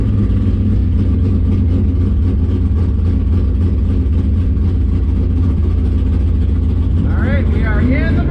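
Several drag cars idle with a deep, steady low rumble in the staging lanes ahead of the burnout box, a 1965 Impala SS among them, under continuous talk. Near the end a rising whine cuts in as an engine revs.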